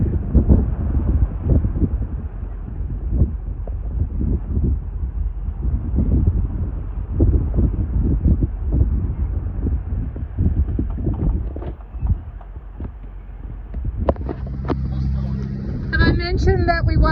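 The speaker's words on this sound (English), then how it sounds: "Had to start our motors now anyway because the wind is behind this mountain." A sailboat's motor runs with a steady low rumble under wind noise and water sounds on an Amel Super Maramu racing an Amel 50. Someone talks over it, and tonal chirps rise near the end.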